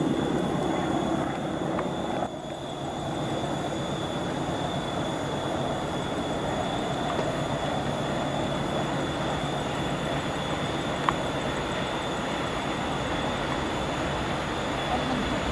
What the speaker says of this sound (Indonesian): baru saja melintas kereta api Bangunkarta dari Jombang tujuan akhir stasiun Pasar Senen